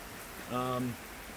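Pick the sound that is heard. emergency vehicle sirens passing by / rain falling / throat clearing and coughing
rain falling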